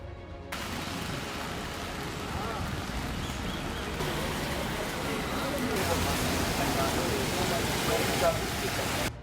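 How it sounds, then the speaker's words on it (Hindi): Heavy rain pours over the lower Kullu valley in the mountains during May, a dense, steady hiss that holds without a break and swells slightly louder in the second half. "कुल्लू के निचले इलाकों में झमाझम बारिश"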